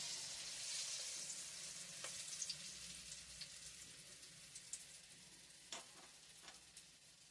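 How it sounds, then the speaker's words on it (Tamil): Balls of banana flower, chana dal, onion, green chilli, curry leaves and coriander dumplings frying in hot oil make a soft, steady bubbling sizzle with scattered pops and crackles, fading slightly as it goes on, no voices. "உருண்டை எண்ணெயில் போடுறேன்"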